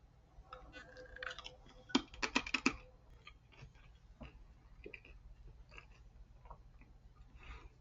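Thin, light sesame and shrimp senbei rice crackers crunched between the teeth, a close, quiet run of crisp brittle bites clustered early, then scattered softer chewing crackles.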